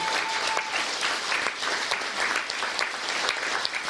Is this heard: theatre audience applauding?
yes